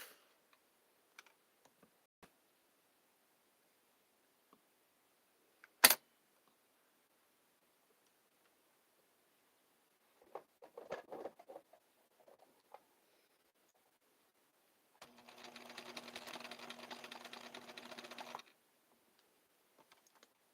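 Domestic sewing machine stitching blue coattails: a quiet room with a few scattered ticks and handling clicks, a sharp click, brief rustles, then one steady whirring run of about three and a half seconds.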